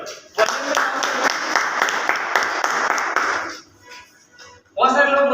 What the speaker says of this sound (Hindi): एक बार अपने लिए जोरदार ताली हो जाएगी।